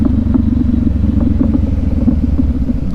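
A KTM 390 Adventure or Honda CB500X motorcycle exhaust rumbles loudly and steadily with a deep, throaty drone and slight fluttering pulses throughout.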